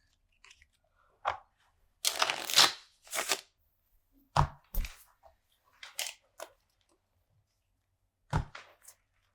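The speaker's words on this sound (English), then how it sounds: "Let me shuffle this up real quick." A deck of playing cards is shuffled at a tabletop card game, heard as several short riffling bursts with quiet gaps between them, close and fairly soft, with no talking.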